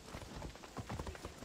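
Horse hooves clip-clop at a quick, uneven trot in the video game Assassin's Creed Odyssey, soft and fairly faint, with no talk over them.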